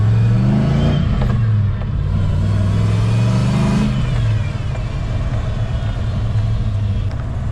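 Nissan GU Patrol fitted with an LS1 V8 engine driving around the block, a loud deep rumble with revving rising and falling, close up and steady throughout.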